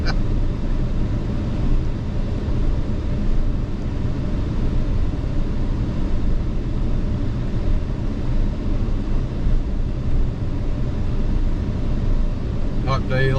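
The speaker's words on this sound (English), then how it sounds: "The exhaust brakes kicking in." Truck exhaust brake engaging on a steep downhill grade in the Wichita Mountains near Lawton, Oklahoma, on a hot day: a loud, steady low rumble and drone that continues unbroken throughout.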